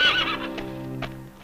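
A horse in the streets of Valparaíso gives a loud, close whinny that trails off, followed by a few short hoof knocks on hard ground.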